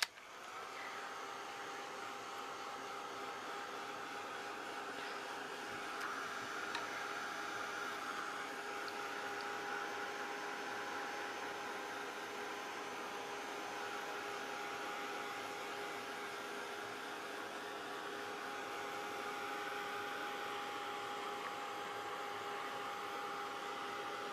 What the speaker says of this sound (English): And then heat gun, I'm afraid.